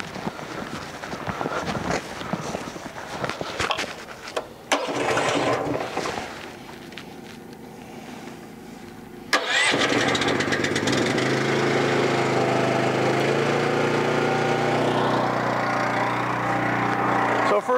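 Engine of a recycling machine fires up after some handling noise and thumps, then settles into a loud, steady mechanical drone that runs on continuously, with someone talking briefly early on.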